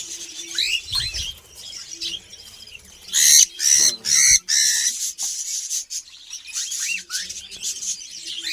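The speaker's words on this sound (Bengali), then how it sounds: "এই যে লাস্ট একটা পাখি আছে এটাকে আমি ছেড়ে দিচ্ছি" Small pet birds, including a lutino, chirping and flapping their wings inside a netted cage on a bird farm after release, with sharp repeated calls and bursts of fluttering, close and lively.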